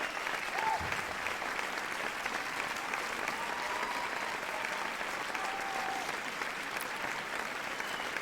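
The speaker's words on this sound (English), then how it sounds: "they're applauding that one longer than I actually spent playing it" Sustained applause from a crowd, steady and dense clapping that continues evenly for several seconds without letting up.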